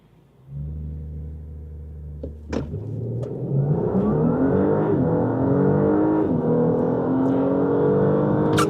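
An Audi A5/S5 launches hard from a standstill in automatic mode with sport stability control, the engine note climbing steadily from a low idle into a loud, rising roar through several gear changes, close and alone.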